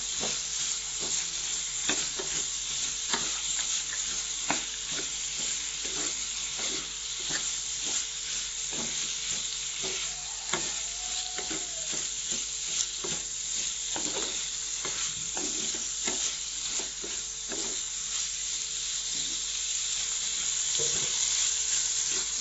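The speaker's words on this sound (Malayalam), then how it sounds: "ഇനി അതിലേക്ക് വലിയ ഉള്ളി, അത് നന്നായി ഇളക്കി കൊടുക്കാം." Sliced onions for a beef fry sizzle steadily in hot oil while a spoon scrapes and stirs the pan in frequent clicks, a close, continuous hiss with no talking.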